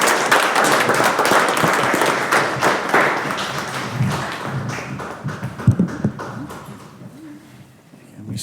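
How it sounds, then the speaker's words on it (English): A board of education meeting audience applauds a group of students, dense clapping that thins out with some thumps and scattered noise as it dies down. "Okay, we can give these boys a deep round of applause."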